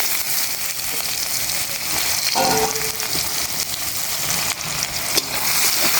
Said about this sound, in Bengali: তারপরে এখন পেঁয়াজ কুচি দিয়ে দিচ্ছি